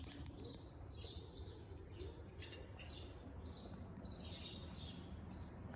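Birds chirping and singing outdoors in a tree, repeated high tweets scattered over a low background rumble, fairly faint and without voices.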